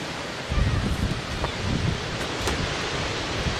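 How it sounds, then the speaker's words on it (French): Strong wind roars steadily, buffeting the microphone with low rumbling gusts throughout. "Il y a du vent violent aussi."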